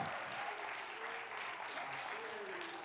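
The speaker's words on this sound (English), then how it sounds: "somebody needs to clap their hands a little" A church congregation claps hands during a fervent sermon, a faint, dense wash of applause with talk audible underneath.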